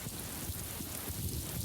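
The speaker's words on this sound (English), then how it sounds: "we felt a drop of rain" Steady rain falling outdoors, a dense constant patter with low rumbling undertones, continuous throughout the short stretch with no voices.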